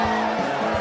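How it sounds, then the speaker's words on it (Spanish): Concert crowd cheering and whooping for a guitarist at a live rock show, a loud sustained roar of voices blended with amplified band sound, steady and close throughout. "un aplauso para el buen Mike."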